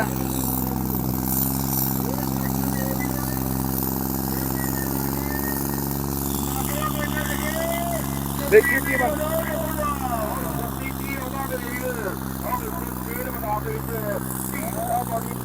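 A tractor engine drones steadily and loudly at a tractor-trolley pulling contest in Mansa district, with a constant low rumble, while spectators talk and shout over it throughout.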